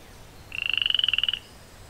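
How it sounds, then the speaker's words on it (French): A small frog gives one close, clear croaking call, a fast train of about twenty rapid pulses lasting under a second, surrounded by quiet. "Pour une petite grenouille, tu fais beaucoup de bruit"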